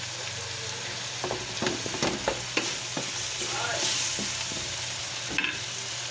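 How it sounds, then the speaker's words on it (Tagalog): Tomatoes sizzle in a pan while being stirred for pinakbet, with a steady frying hiss and scattered clicks and scrapes of the utensil against the pan, no talk. "Natin po itong haluin hanggat maluto ang ating kamatis."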